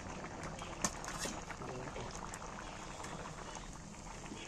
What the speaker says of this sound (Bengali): আর এখানে এই গরম জলটা এর মধ্যে দিয়ে দিচ্ছি